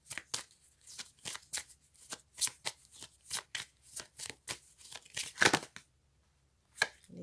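Cards being shuffled during a tarot-style card reading, a rapid series of about a dozen close crisp riffling bursts in an uneven rhythm, then a pause and one last snap, with no talk.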